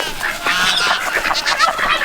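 Several ducks calling together outdoors, a loud, continuous stream of overlapping honking quacks close by, with no talk.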